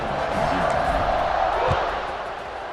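Stadium crowd at a college football game in EA Sports College Football 26, a broad steady roar of cheering before a kickoff, loud and continuous throughout.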